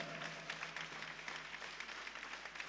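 An audience applauds the Tundzha folk ensemble at a 2024 concert in Yambol. The clapping is a faint, steady patter of many hands that continues throughout.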